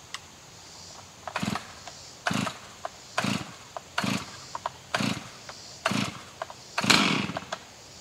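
A chainsaw cuts through cedar trees outdoors in a series of about seven short, loud bursts, with brief quieter gaps between each cut.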